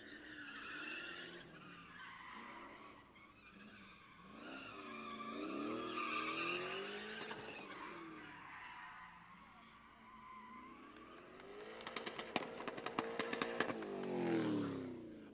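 At a drift pit event, a drift car's engine howls and bounces off the rev limiter while its tires squeal and skid at a distance, blended with crowd noise and a commentator talking.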